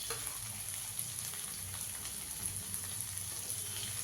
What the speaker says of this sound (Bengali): এটাকে ভালো করে ফ্রাই করতে হবে